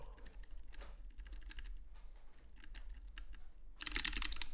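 Rapid keystrokes clatter on a computer keyboard in fast irregular bursts, close and fairly quiet, ending in a louder burst of noise.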